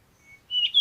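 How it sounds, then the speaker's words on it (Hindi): A caged bird gives brief high chirps as a story sound effect, a faint thin call followed by a louder, sharper tweet near the end, heard alone. "चिड़िया की आवाज आ रही थी"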